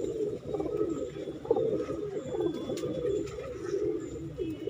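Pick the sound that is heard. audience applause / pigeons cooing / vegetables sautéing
pigeons cooing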